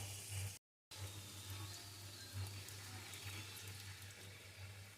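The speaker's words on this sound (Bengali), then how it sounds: "এইভাবে আস্তে আস্তে চেপে চেপে সুন্দর করে ভেজে নেব" Sugar-filled paratha frying gently in a pan, a steady low sizzle with soft crackle running continuously, briefly cut off near the start, no voices.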